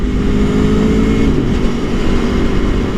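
A 2018 Aprilia Tuono Factory motorcycle pulls hard under acceleration, its loud, steady engine roar rising slightly in pitch over a few seconds with heavy wind rumble, no talking.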